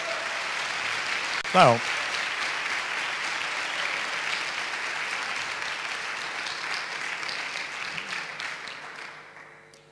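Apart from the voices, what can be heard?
audience applause for teachers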